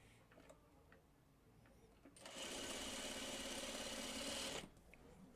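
A sewing machine stitches quilt block pieces for a Broken Dishes block in a fast, loud burst of about two and a half seconds, with quiet room sounds before and after.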